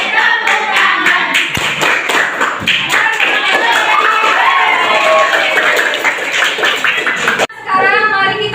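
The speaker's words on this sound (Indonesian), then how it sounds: "Kalau kau suka hati tepuk tangan" Rhythmic hand claps keep time alongside a group singing "Kalau kau suka hati" in a classroom, the steady clapping running through the song until it abruptly cuts off.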